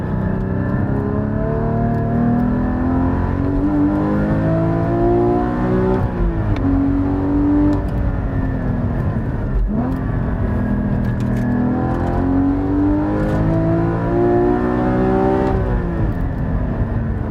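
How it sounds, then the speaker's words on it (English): A Porsche Cayman GT4's engine revs loud and steady while cornering with its dampers in sport mode, pitch climbing and dropping through repeated rises and lifts with no talk over it. "Now I'm going to put the dampers in sport mode and take it through some turns"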